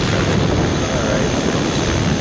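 A T-Rex 600 ESP radio-controlled helicopter with a flybarless system on a 12S battery whines and buzzes steadily overhead, a loud, continuous rotor and motor drone.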